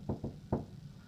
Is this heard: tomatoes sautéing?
no